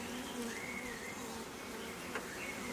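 Honeybees humming around an open hive, a soft steady buzz with individual bees drifting close and away.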